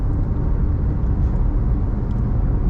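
Inside a 2024 Maruti Swift AMT, the engine drones steadily as the car slows and the gearbox shifts down to third, a loud, even low rumble with road noise and no talk.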